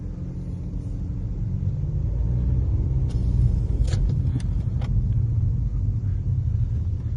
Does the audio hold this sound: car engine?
yes